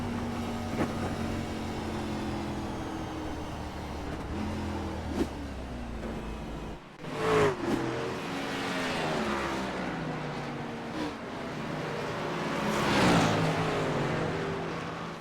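A race car in a multiclass truck and Gen 6 stock car event on the Iowa short track, running after its engine let go, gives a steady, loud engine drone with shifting pitch that swells and dips throughout.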